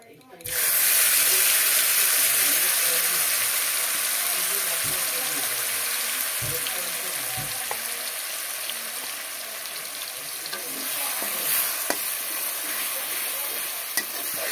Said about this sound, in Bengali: কড়াইতে তেল দিয়ে নিলাম। এখন মশলা দিয়ে দেব